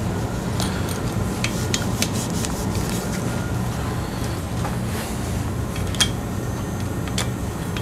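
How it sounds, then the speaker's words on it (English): Steady close rubbing and buffing while polishing a part of a Trek 4500 mountain bike, with scattered small ticks and clicks over a constant low hum and no talking. "More polishing."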